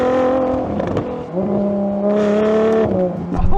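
A Ferrari V12 hypercar accelerates with a steady, rising engine drone, its tone shifting through gears amid wind rush, heard from inside the cabin.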